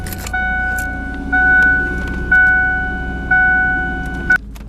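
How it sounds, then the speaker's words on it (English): A Tesla car powers on with a repeated two-tone electronic chime, four evenly spaced beeps over a steady low hum, ending with a short click. "This might be your first time hearing a Tesla fire up like that"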